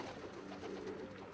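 Ice pigeons, including a clean-legged white bird and a muffed variety, coo steadily in a close, continuous, low murmuring drone with no talking.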